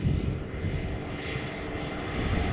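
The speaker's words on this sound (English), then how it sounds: "this is KLM flight 936 and Embraer 190 arriving from Glasgow" A KLM Embraer 190 airliner arriving at Schiphol from Glasgow, its engines giving a steady, loud roar that stays even and close for the whole stretch, with no voices.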